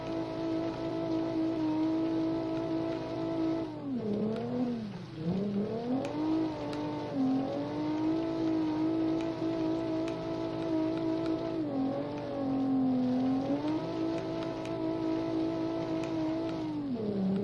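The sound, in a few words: turbocharged car engine shifting gears, BeamNG.Drive video game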